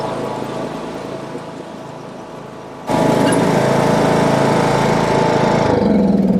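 A 2011 John Deere D100 riding lawn mower engine drones steadily, then jumps abruptly to a louder, higher-pitched sustained roar as it races at full throttle, close by and without talk.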